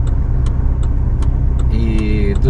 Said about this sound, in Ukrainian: От дивіться, їде машинка, яка везе древесний уголь